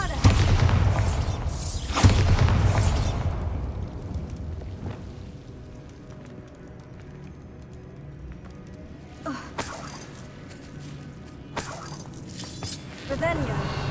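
The Bombarda blasting spell in the Hogwarts Legacy video game sets off loud, rumbling booms at the start, then quieter ambience and a few sharper bursts later, with game speech mixed in.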